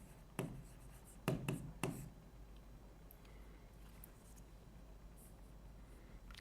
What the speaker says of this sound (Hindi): मैं यहाँ पे लिख देता हूँ आपके लिए शॉर्ट में